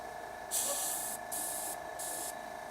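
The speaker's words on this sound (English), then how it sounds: "I feel like the brush is spraying a little bit nicer now." An airbrush sprays paint onto a Frost Gargant miniature in three steady hissing bursts of about half a second each, separated by short pauses, close up over a faint constant compressor hum.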